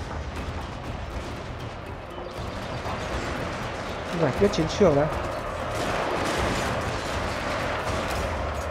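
Rifle volleys in a samurai-era strategy game battle, a dense cluster of crackling shots mid-clip over a rumbling battlefield din, with someone talking over it.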